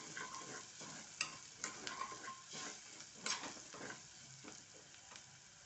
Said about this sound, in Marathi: दोन चमचे मसाला छान परतून घ्यायचा आहे